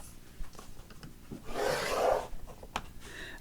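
Paper being scored with a hand tool during an ephemera craft project, a short steady rasping rub swelling for about a second before a faint tap, fairly close and with no talk.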